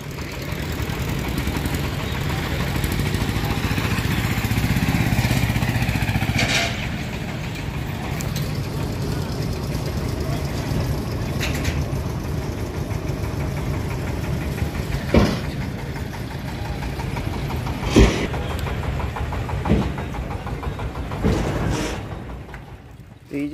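A vehicle engine idles steadily while waiting to cross a pond, a low continuous rumble heard with outdoor background noise and a few sharp knocks, with people talking nearby.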